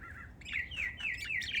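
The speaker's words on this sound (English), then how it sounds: "Budgies are happy outside." Budgies chirping outdoors, several quick, bright high chirps and warbles in a short burst, fairly faint against a low background hum.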